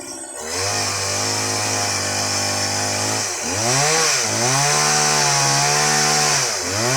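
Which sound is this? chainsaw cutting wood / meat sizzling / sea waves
chainsaw cutting wood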